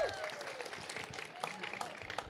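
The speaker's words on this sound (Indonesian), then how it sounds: "Tepuk tangan dulu Bapak Ibu-Ibu." Scattered applause from a crowd gathered in a rice field in Gorontalo, a steady patter of clapping with some background chatter, moderately loud and continuous throughout.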